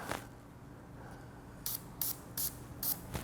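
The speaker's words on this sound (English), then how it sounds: "spray a little gun oil on it" Gun oil sprayed onto a cleaning dauber during handgun cleaning, heard as five short hissing spray bursts in a steady rhythm after a quiet stretch, close and fairly soft, with no talking.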